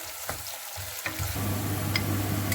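Chopped onion frying in a pan until brown, a steady close sizzle broken by a few sharp spatula scrapes and stirring strokes.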